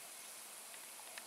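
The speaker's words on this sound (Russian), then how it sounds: "Красивый фонтанчик? Вот такой дождик, да?" A small garden fountain sprays water like rain, a faint, steady hiss of fine droplets pattering on the ground outdoors at a summer cottage, with no voices.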